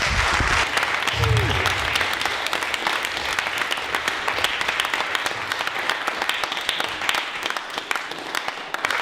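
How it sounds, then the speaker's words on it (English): An audience at a poetry evening in a Derby venue breaks into sustained, loud applause, a thick continuous patter of many hands that holds steady throughout, with a brief voice near the start. "round of applause, Jas"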